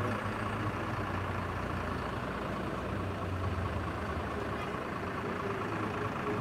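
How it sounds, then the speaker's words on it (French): Heavy street traffic heard outdoors, a continuous low rumble of engines with trucks and buses idling and passing, dense and steady throughout without clear gaps. "il y a beaucoup de circulation."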